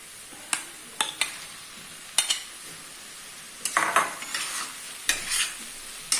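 Paneer frying in hot spiced masala and oil, stirred with a utensil: sharp scraping strokes against the pan at irregular intervals over a steady sizzle, with no talking.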